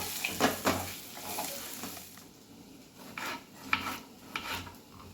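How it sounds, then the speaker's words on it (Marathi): Cashews, melon seeds and sesame roast with onions in a pan, irregular scraping stirs with a rasping texture over a faint sizzle, a few louder utensil strokes. "याच्याबरोबर चांगलं हे सगळं भाजून द्यायचं कांद्याबरोबर"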